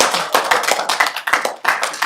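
An audience applauds in a municipal council chamber, a dense burst of hand clapping that carries on steadily for a couple of seconds with no voices over it.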